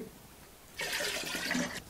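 Water pours into a tank on a farm, starting faintly and then becoming a steady splashing rush for about a second before easing off.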